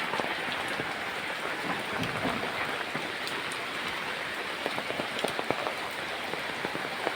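Heavy rain pours down over flooded, waterlogged ground, a dense steady hiss dotted with sharper raindrop patter throughout.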